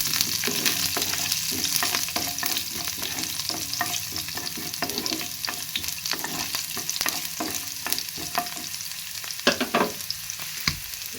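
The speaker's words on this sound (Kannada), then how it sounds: "ಬೆಳ್ಳುಳ್ಳಿನ ಅದರ ಎಣ್ಣೆಯಾಗನ ಮತ್ತು ಚಲೋತ್ನಾಗ ಫ್ರೈ ಮಾಡ್ಕೋಬೇಕು ರೀ" Garlic frying in oil in a pan, a dense, even crackling sizzle with frequent small stirring clicks and scrapes, steady and close with no voices.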